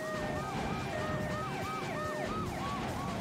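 Ambulance and police car sirens wail together in the ReDriver 2 driving game, two overlapping sweeping up-and-down tones cycling steadily over a constant engine and road rumble, loud and close throughout.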